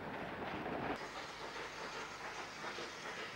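Steam goods locomotives of the New South Wales standard goods type, double-headed on a special passenger train, rumble past with a steady rail clatter and hiss, loudest in the first second then holding at a continuous moderate level.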